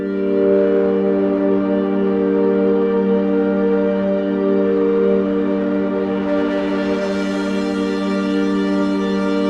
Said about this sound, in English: something long evolving cinematic pad that you all love